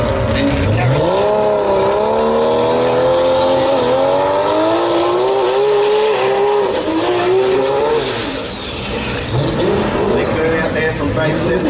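A Toyota Supra on a drag strip during a drag racing finals event roars loudly, its engine note sweeping upward through repeated gear changes, with an announcer talking over the run.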